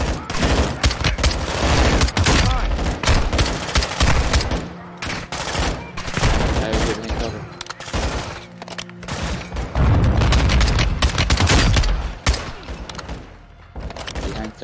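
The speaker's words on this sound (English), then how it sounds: "Oh, there's some shooting over here" Sustained automatic gunfire erupts in a prison mess hall in Modern Warfare 2, dense bursts of shots with heavy thuds, loud and close, pausing briefly before resuming.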